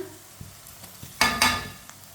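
Crushed garlic dropped into a pan with lightly browned onions gives a short burst of sizzling and frying after soft clinks, then quiets down.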